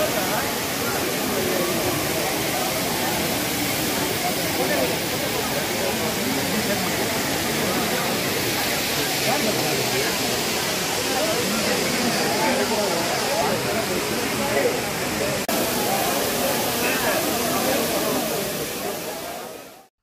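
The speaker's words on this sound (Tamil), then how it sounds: "அருவியோட சத்தமும் கேட்க ரொம்ப நல்லா இருக்குது" Steady, dense roar of rushing water from Courtallam Main Falls close by, continuous and loud throughout with no clear gaps.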